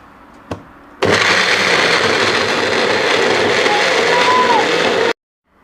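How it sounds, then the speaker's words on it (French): A blender crushes ginger in one loud, continuous whirring burst lasting about four seconds, starting abruptly after a single knock and cutting off sharply into silence. "Alors, nous allons écraser le gingembre. Attention, ça va faire le bruit."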